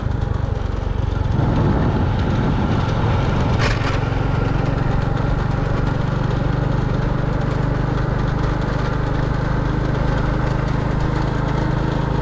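A motorbike engine runs loud and steady in a rural village settlement. The drone is continuous and close throughout, with a brief rise in roughness near the start.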